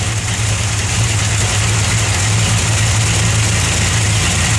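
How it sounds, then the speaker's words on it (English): The engine of a 1963 Plymouth Valiant runs loud and close with a deep, steady rumble that holds an even level and shows no clear rise in pitch. "Go ahead and give it a little rev."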